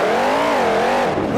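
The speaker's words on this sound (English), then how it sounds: "I feel like I gotta be screaming over the sound of this motor." Monster truck engine at a Monster Jam show in Indianapolis, Indiana, roaring loud and close with a wavering, rising and falling pitch that climbs into a strained rev at the end.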